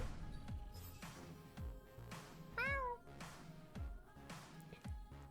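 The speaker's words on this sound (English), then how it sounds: "It's a kitty." A cat meows once in the video game Boyfriend Dungeon, a clear rising-falling call standing out over steady game background sound and soft rhythmic thumps.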